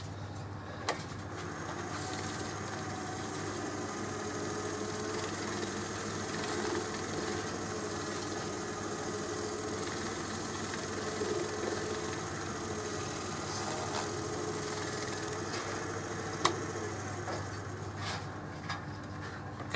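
A wood lathe turns a piece of sheoak timber, producing a continuous low hum and broadband scraping drone with a few faint clicks, steady throughout.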